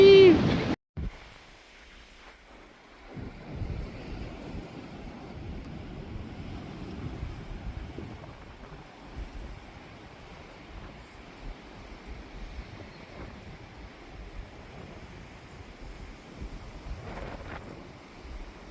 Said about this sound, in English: Shame it's so windy today.